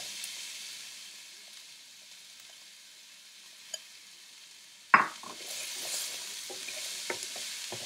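Garlic in a non-stick pan gives only a faint, quiet sizzle at first. Then onion is tossed in with a sudden loud burst of sizzling that settles into a steady crackle with light stirring scrapes.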